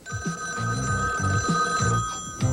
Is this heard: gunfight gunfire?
no